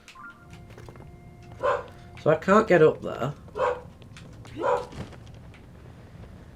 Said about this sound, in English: dog's barking as well